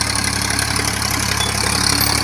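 A Ford 3600 tractor engine runs at a steady idle nearby, a loud, even diesel chug with a constant low rumble and no voices.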